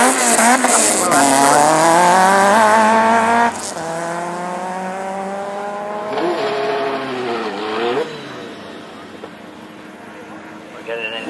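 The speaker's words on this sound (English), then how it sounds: "We're getting into lively tuned up engines here." Tuned race car engines at a motor sprint at Aintree rev loudly nearby, rising and falling in pitch as they accelerate, with a second engine note taking over partway through and no talk.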